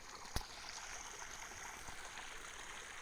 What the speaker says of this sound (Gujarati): જો એટલું ફફડાટે બોલાવે છે પાણી